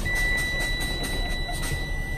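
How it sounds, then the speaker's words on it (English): A truck's low air pressure warning buzzer sounds during a cab pretrip check, a steady high-pitched electronic tone held throughout, with faint rhythmic pumping noise underneath. "Now I have a light and a buzzer at 60."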